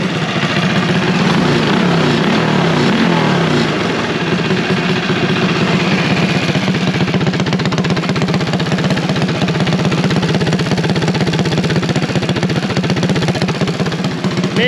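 Small kart engine, a KSR clone mounted to a kart, running steadily at idle with a loud, constant mechanical drone and faint ticking valve noise, close by and without any talking.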